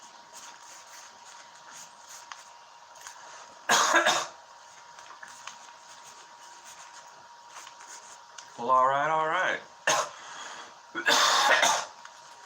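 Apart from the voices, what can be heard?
coughing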